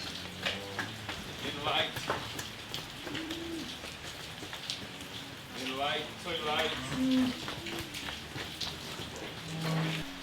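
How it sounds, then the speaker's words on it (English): Steady rain patters on surfaces during a wet spell on a cattle farm, heard beneath someone speaking nearby, while pigeons or doves coo intermittently in the background. "Just what we need, more rain."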